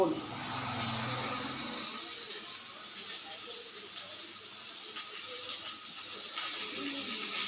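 Pointed gourd (potol) fries in a hot wok with a continuous hissing sizzle, while a voice talks briefly over the start.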